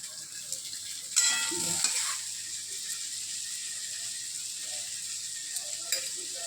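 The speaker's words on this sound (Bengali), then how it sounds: "পেঁয়াজটা ভাজা ভাজা হোক, রসুন, আদা, কাঁচা লঙ্কা ভাজা ভাজা হোক, শিমলা মির্চ," Onion, garlic, ginger, green chilli, capsicum and tomato fry in a pan for a soybean chilli dish, a steady close sizzle broken by a few stirring clatters and scrapes.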